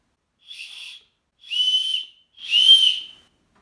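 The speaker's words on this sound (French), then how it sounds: "on va tester les sifflets" Three sharp, shrill blasts from a safety whistle on a backpack strap, each a little longer and louder than the last, sounding close and alone against silence.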